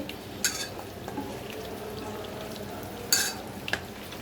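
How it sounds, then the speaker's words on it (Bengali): Chicken is mixed by hand with salt, chili powder and turmeric for a spicy red chicken kosha, giving soft, quiet squelching and stirring with a few sharper clicks and rustles. "তো আমি লবণ আর হচ্ছে মরিচ গুঁড়া, হলুদ গুঁড়া এগুলো সব মেখে"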